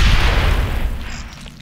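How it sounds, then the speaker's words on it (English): A grenade explodes in the tactical game Aliens: Dark Descent, a single heavy, loud boom with a deep rumbling tail that fades over about a second and a half, close and alone without talk. "Grenade!"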